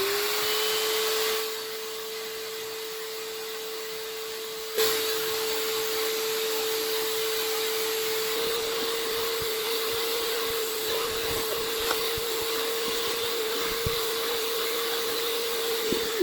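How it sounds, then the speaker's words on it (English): A pet vacuum cleaner whines steadily inside a vehicle, picking up spilled goldfish crackers, with a small scattered clatter and bumps along the way. "I don't normally pet vac unless it's warmer weather out, but under these circumstances, I got no other choice."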